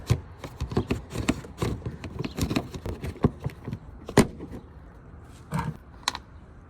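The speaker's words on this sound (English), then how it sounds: "Drop some screws in." Small screws clatter and tick against plastic trim while a car hatch interior is being reinstalled, an irregular string of light taps and rattles at close range.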